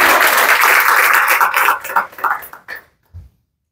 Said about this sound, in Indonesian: Tepuk tangan dong untuk bisnis kita